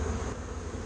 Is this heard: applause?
no